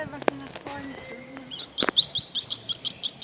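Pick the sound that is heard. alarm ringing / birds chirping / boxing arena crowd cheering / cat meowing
birds chirping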